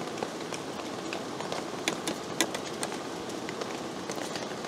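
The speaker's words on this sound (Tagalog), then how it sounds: "Malakas na po yung ulan." Heavy rain drums steadily on a roof at a riverside moto camping spot, a dense continuous patter with scattered louder drops and no voices.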